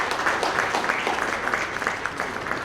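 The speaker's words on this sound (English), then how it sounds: "Can we have a good clap for Maulana Ali" Steady clapping from a conference audience honoring panel speakers, a continuous wash of hands at fairly close range with no voices over it.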